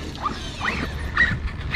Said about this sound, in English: Watch those dogs.